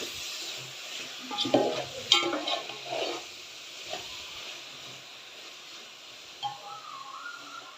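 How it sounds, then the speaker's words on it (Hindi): Carrots for gajar ka halwa roasting in ghee, a low hiss with a few louder scraping stirs of a spoon early on, then quieter frying with occasional clicks. "अभी हम घी डाल के इनको खूब अच्छे से भूनेंगे"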